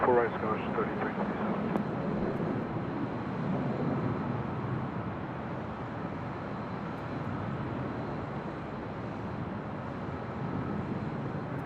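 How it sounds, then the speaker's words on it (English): A Delta Airlines A320 arriving at Los Angeles International Airport, heard from a high hotel rooftop as a steady broad roar of jet noise that holds for the whole stretch, with faint air-traffic radio chatter mixed underneath. "That was Delta Airlines Flight 1062 coming in from SFO, San Francisco, and then A320"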